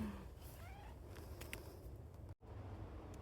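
A cat meows a few short times, soft and close, over a steady low background hum with a brief dropout near the end.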